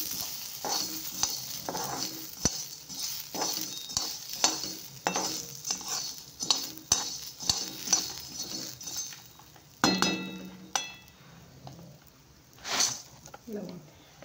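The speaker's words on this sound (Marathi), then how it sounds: "छान भाजून घ्यायचे।" Coriander seeds and black peppercorns roasting in a little oil in a pan for homemade kala masala make a soft sizzle, stirred with repeated scrapes and clinks of a metal spoon at an uneven rhythm, fairly close.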